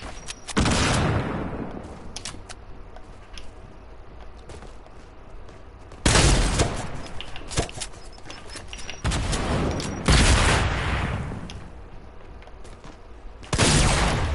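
Shotgun gunfire in a video game battle, several loud booming blasts spaced a few seconds apart, each with a long decaying tail, close and without talk.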